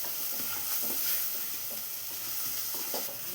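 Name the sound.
chopped tomato being sautéed and stirred in a pan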